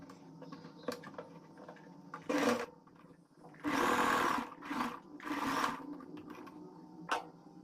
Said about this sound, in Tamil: நான் வந்து ஒரே அடியாக ஸ்டிச் பண்ணிடுறேன்.